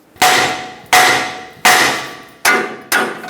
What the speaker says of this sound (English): Use a large hammer, tap on the knuckle right here.